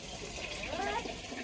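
Tap water runs and splashes while dishes are washed, a close, steady gurgling rush throughout.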